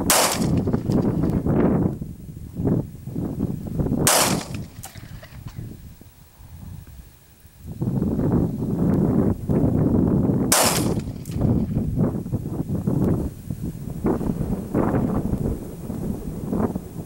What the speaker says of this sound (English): On target at 200 yards with the Glock 19.